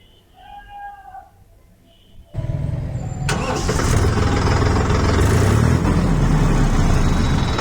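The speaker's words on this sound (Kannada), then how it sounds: "ಬನ್ನಿ ಇಂಜಿನ್ ಗಾಡಿ ಸ್ಟಾರ್ಟ್ ಮಾಡಿ ನೋಡೋಣ ಹೇಗೆ ಸೌಂಡ್ ಅಂತ" A Mahindra Yuvo Tech Plus 405Di 39HP 2WD tractor diesel engine cranks and catches, then settles into a loud, close, steady rumbling idle; a cat meows faintly beforehand.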